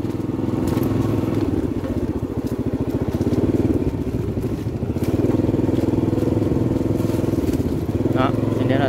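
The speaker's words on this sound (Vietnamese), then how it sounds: "Bây giờ thì tôi sẽ chạy xe máy quay cho nó nhanh." A motorbike rides along a road past a rubber plantation in Dong Phu, with a steady, close engine drone and rattle that continues for the whole stretch.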